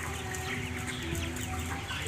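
Broiler chickens, about 22 days old, cluck and murmur in a poultry house set up in a converted warehouse, a dense continuous chatter from many birds over a steady ventilation hum.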